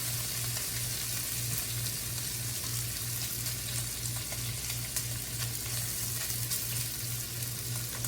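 Bacon sizzling as it cooks in a pan, a steady close-up frying hiss with crackles that holds for the whole stretch, alone with no voices.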